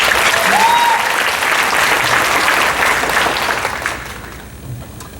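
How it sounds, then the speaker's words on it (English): A gala audience applauds the national anthem singer in a sustained, dense round of clapping that holds steady before tapering off slightly near the end. "Can you give her another round of applause"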